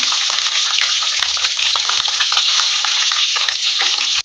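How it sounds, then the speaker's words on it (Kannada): Finely chopped onion frying in hot oil with mustard seeds as the base for a mackerel green masala curry: a loud, dense, continuous sizzle with crackling pops and occasional stirring scrapes, close up, without talk. "ಒಂದು ಈರುಳ್ಳಿಯನ್ನು ಸಣ್ಣದಾಗಿ ಕಟ್ ಮಾಡಿ ಅದನ್ನು ಕೂಡ ಹಾಕಿ ಚೆನ್ನಾಗಿ ಫ್ರೈ ಮಾಡ್ಕೊಳ್ಳೋಣ"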